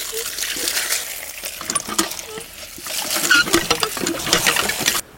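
Water bubbles at a rolling boil in a pot for rice, a close, busy gurgling and splashing that swells and dips over several seconds and stops abruptly at the end.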